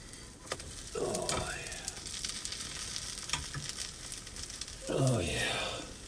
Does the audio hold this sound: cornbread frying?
yes